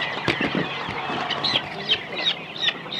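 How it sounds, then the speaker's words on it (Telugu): Turkeys (seema kollu) at a poultry farm holding several fowl breeds, clucking and calling in a steady busy chorus, with repeated sharper calls standing out close by and no talk. "ఇది చీమకోడి సీమకోళ్ళు"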